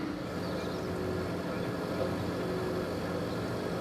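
Tractor engine running steadily with the PTO engaged, a low, even drone heard from close by throughout, with faint background noise.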